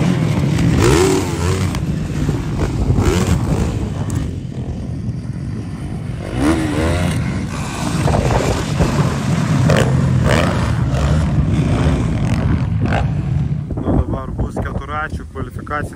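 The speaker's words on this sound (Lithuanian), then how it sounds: "dabar važiuos galingesni motociklai" Powerful supermoto motorcycles racing on a track at a championship final in Kuršėnai, engines roaring and revving as they pass, with wind buffeting the microphone and a voice talking over them.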